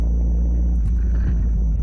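A 2016 Suzuki Hayabusa GSX1300R ABS motorcycle fitted with a Scorpion exhaust gives a deep, steady idle rumble, close and continuous, with a slight throttle blip midway.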